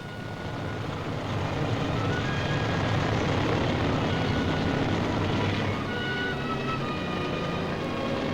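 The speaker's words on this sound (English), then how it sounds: "Now comes a great fly past by 300 naval aircraft. First, Dragonfly helicopters" Dragonfly naval helicopters fly past in a naval review flypast, a loud continuous broadband engine and rotor roar that swells after the first second and holds steady throughout.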